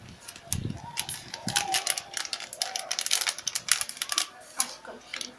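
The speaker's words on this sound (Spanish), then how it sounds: "Voy a abrir con tijeras." Scissors snip open a package, a run of crisp, close clicking and crinkling cuts in quick bursts, with bits of soft speech in the background.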